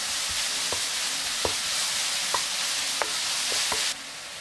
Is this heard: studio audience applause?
no